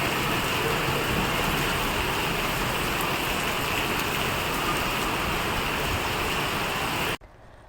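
Steady unseasonal rain falling in Gujarat, a dense even hiss of drops on surfaces throughout, cutting off abruptly just before the end, no voices.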